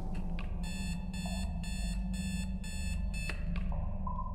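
A series of bright electronic beeps in the claustrophobic game TRAPPED, about six evenly spaced tones pulsing loudly over a constant low droning hum, with no voices.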